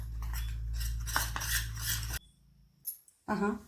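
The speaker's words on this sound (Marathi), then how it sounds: "याच्यात मी एक चमचा हे तूप घालत आहे पहा मोठा एक चमचा तूप घातलेला आहे आणि हे आपण फेटून घ्यायचं आहे" A spoon whisks ghee in a bowl while a wheat-flour dough for khari is being made, first as about two seconds of quick scraping and clinking, then a pause and a couple of short taps.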